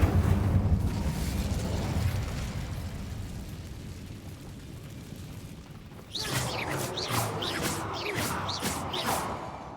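Incendio fire spell cast in Hogwarts Legacy: a roaring, rushing burst of flame noise that fades, then a second surge with crackling bursts and sharp whooshes.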